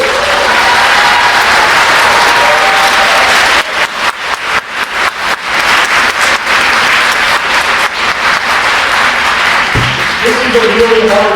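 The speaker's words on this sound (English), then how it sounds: "Can we give a round of applause to both candidates?" A convention crowd at a Ward 1 DFL meeting in Minneapolis applauds two candidates after a Q&A, with loud sustained clapping, some individual claps standing out midway, and a voice near the end.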